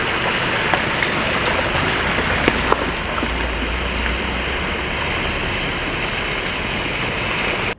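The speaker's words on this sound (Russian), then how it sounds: "Через эту трубу пытаются спустить лишнюю воду вот отсюда." Floodwater rushes steadily through a drainage pipe in the flooded settlement of Snegiri near Yekaterinburg, a loud continuous roar of churning water heard close up with no voices.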